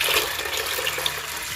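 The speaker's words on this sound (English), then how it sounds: "Me throw off that water." Water being poured off cooking food in a home kitchen, a steady splashing rush that runs continuously and fairly close throughout, with no other sounds on top.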